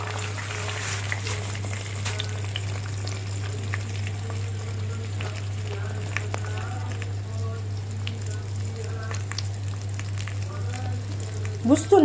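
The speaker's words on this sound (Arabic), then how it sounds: "اهو هحمر بقى الشعريه" Vermicelli fries in a pot on the stove with a steady, soft sizzle and crackle over a low electrical hum, with a few clinks near the end.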